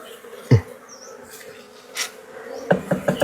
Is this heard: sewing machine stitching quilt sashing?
no